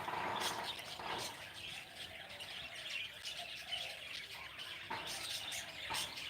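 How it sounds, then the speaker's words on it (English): Birds chirp and sing outdoors in the quiet early morning after rain, several close calls and tweets scattered over a soft background, with no talking. "the birds are singing"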